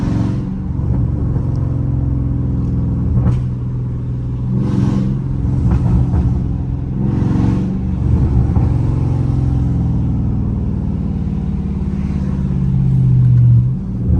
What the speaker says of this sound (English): hitting the gas and then getting off of it, hitting the gas and then getting off of it, like repetitively